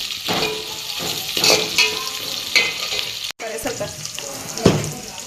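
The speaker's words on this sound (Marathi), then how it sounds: "चांगला ब्राऊन झाला पाहिजे कांदा।" Chopped onion fries in a pan for masala rice while a spoon stirs and scrapes through it, giving a close, steady sizzle broken by irregular scraping strokes and a short pause midway.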